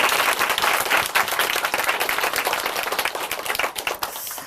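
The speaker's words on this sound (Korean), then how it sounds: "다시 한번 우리 하나님께 영광의 박수 드리겠습니다." Dense audience applause in a Korean church broadcast, a steady, full wash of many hands clapping together that holds for several seconds and thins slightly toward the end, with no talk over it.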